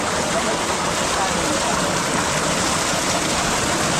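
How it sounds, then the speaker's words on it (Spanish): A naturally hot thermal river in San Vicente, Colombia flows with a dense, constant rushing wash of water, close and fairly loud with no break over the few seconds. "Bienvenido a Río Termal. Ese río también caliente."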